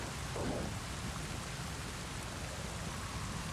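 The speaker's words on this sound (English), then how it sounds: "the other problem when you have so many colors and the storm going on" Steady rain and thunderstorm at night in the lowlands and rainforest of Pandora in an Avatar video game, a dense continuous hiss of rainfall with a soft low rumble of thunder throughout, no voices.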